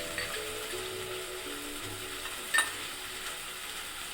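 Ginger garlic paste fries in a pan for biryani, giving a soft, steady sizzle with faint stirring and a brief clink.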